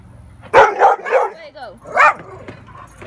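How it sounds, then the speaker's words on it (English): Dogs bark outdoors in several sharp, close bursts, with a voice talking alongside during a walk out looking for frogs. "These dogs keep barking at us."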